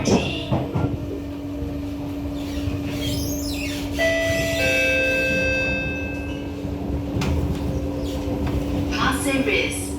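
A Singapore MRT C151A train car screeches along the track, with a sustained tonal squeal and high ringing tones that come and go over the rumble of the moving carriage, while an announcement voice is heard.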